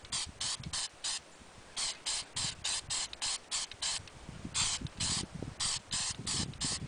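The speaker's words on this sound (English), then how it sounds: "So let's just spray that." Repeated short bursts of a spray paint can hissing through a stencil, close and rhythmic, each spray about a quarter second with brief pauses between.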